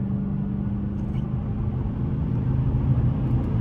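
Car cruising in fifth gear with paddle shifters, heard from inside as a steady low engine and road drone that stays even throughout, with no talking.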